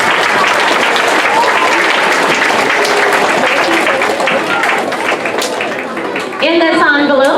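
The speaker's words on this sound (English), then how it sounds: "And one more round of applause as they exit the stage." A school awards ceremony audience claps as third-grade students leave the stage, with sustained applause that dips briefly near the end before a voice speaks over the room.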